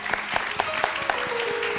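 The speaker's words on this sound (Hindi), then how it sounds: "इनके लिए बहुत सारी तालियां" Studio audience at a televised Ramadan quiz show applauds a losing team, a brief burst of dense clapping with a few sharp claps standing out near the mic.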